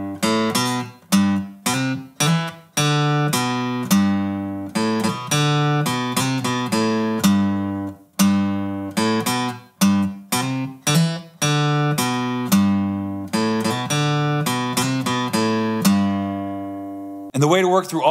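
Guitar plays a riff as single plucked notes and short runs, each ringing and decaying, with brief pauses between phrases, clear and close with no voice.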